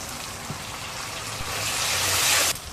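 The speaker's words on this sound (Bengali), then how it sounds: "এবার উপর থেকে একটু বান্না ধোয়া জল দিয়ে দেব।" Rice-washing water poured over a fried masala for a Bengali potol curry, a rising rushing hiss that swells for about a second and then cuts off abruptly.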